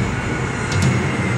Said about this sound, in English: the Airbus is nearing the end of the runway